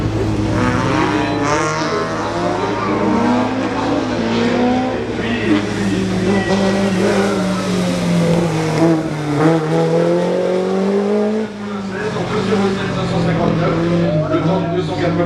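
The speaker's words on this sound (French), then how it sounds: "On a des motos" Rally motorcycles at the Dakar race roar past at speed. The loud, continuous engine noise rises and falls in pitch as they come and go.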